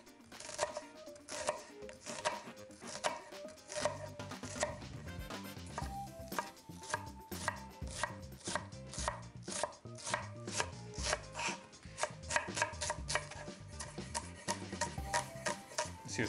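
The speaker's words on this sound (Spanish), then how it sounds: "lo que estamos haciendo ahora es picar una cebolla" A knife finely chops an onion on a board for a risotto base, making rapid, steady, close taps that continue without pause.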